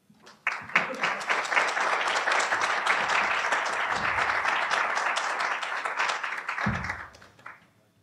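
A conference audience applauds in welcome as a keynote speaker takes the stage. The clapping is dense and sustained for about six seconds, then fades out.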